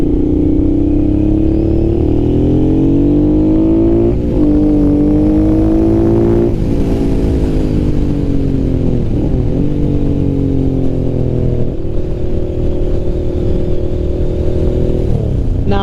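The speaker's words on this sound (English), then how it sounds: "The V-twin sounds amazing." A carbureted Honda NT650 Hawk V-twin motorcycle engine revs loudly and steadily up close, its pitch climbing and falling through repeated throttle blips with no talking.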